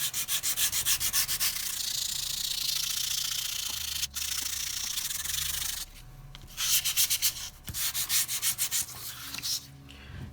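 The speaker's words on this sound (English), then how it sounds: "we're going to now bring in our sander to help us distress this piece even" An electric sander grinds across a papercraft haunted house piece to distress it, giving a loud, close buzzing rasp in several bursts with short pauses between.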